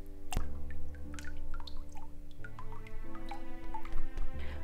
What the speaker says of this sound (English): I dip in the mould and deckle and scoop up as much pulp as I can, then let it strain out while tilting it around